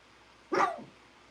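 A single short dog bark, fairly close and clear, in an otherwise quiet farm setting.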